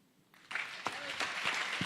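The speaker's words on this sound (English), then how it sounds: "please direct your applause to Misty Pietro and Matt Weinberg" Audience applause breaking out after a student pitch at a high school accelerator pitch night, starting suddenly from near silence and continuing as faint, steady clapping.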